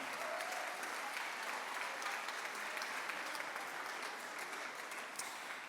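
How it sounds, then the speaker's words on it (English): Sustained applause from a gala audience welcoming a new member, steady dense clapping filling the whole stretch at moderate distance with no speech over it. "Please give a round of applause to Maddox Henry and welcome him into the Pan Am family."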